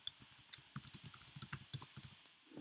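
Text is typed on a computer keyboard in a quick, uneven run of crisp keystrokes, around twenty close, fairly quiet clacks with no talking.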